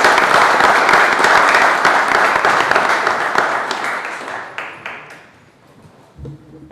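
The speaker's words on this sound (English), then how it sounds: "Let's give you another round of applause." Audience applause at a city council workshop honoring firefighters, a loud sustained round of clapping that thins out and fades over the last couple of seconds, followed by a few faint sounds near the end.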